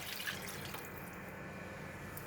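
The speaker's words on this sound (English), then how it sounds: "Now I add in the chicken stock." Chicken stock pours into a pan of lor mee gravy, a faint, short trickle of liquid over a low background hiss.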